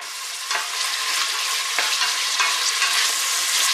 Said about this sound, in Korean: 아 기름이 그냥 펑펑 튀고 있네요.